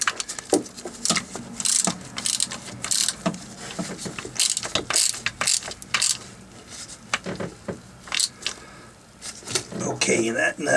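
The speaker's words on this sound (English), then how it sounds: "then I'll come back with the torque wrench" Ratcheting torque wrench clicks in quick bursts while tightening exhaust riser nuts on a Mercruiser Mag MPI marine engine, close and sharp, with metallic clinks and brief talk between the bursts.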